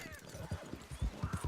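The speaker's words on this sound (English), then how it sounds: "I'm going to reposition my horse" Horse hooves clip-clopping at a slow walk in a hunting video game, a brief run of soft, fairly close thuds over quiet outdoor ambience.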